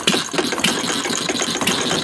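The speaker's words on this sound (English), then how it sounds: "It's a hit and miss engine? Yeah, it's a hit and miss." A gasoline hit-and-miss engine runs nearby during a hobby shop tour, giving a dense, chuffing mechanical clatter with irregular firing pulses, steady and fairly loud without talk.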